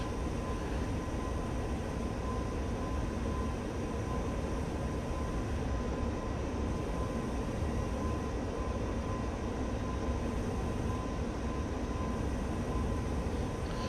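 Steady, loud, broadband roar of an F-86 Sabre jet engine throttling up in the DCS flight simulator, a continuous rumble with a faint high whine that holds throughout.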